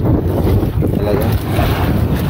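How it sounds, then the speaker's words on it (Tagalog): Strong wind roars and buffets the microphone aboard a small boat at sea, a dense continuous rush close and loud, with faint water sounds beneath. "Kusog ning hangina na ni oy."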